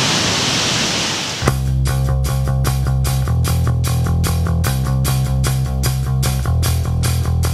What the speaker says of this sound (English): And here come the waterfalls.